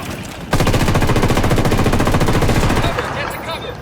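Sustained automatic gunfire bursts from the video game Ghost Recon Wildlands, starting abruptly, loud and rapid for about two and a half seconds, then easing into lighter shots and fading.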